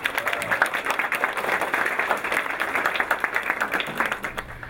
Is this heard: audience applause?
yes